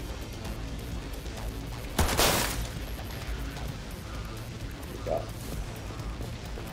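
A single sharp, loud gun blast in the video game Cyberpunk 2077 rings out with a brief crashing tail, followed by a fainter shot amid game ambience and someone speaking.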